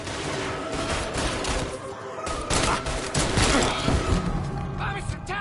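Gunfire in the Mafia 3 Definitive Edition forms a dense, continuous barrage of overlapping shots and thuds, loud and chaotic throughout.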